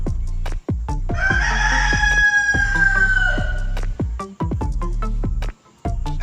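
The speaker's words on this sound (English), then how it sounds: "Rooster," A rooster gives one long, loud cock-a-doodle-doo crow, heard close over a steady rhythmic musical beat.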